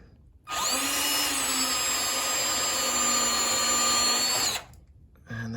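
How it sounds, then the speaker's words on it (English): A power drill bores back through a hole in a wooden workbench top, a loud, close, steady whine held for about four seconds before it spins down to quiet. "And I'll just re-drill it."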